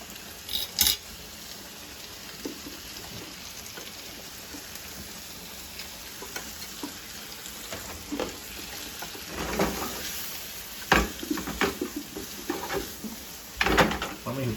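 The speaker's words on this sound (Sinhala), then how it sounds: "අනියන් එකට පොඩි කාලයක් යන නිසා මම මේක මුලින්ම ෆ්‍රයි කරගන්න හිතුවා." Onions frying in butter in a pan give off a steady, hissing sizzle, broken by scattered clicks and soft knocks, with a voice talking faintly in places.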